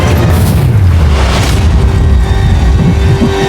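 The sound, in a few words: firecrackers going off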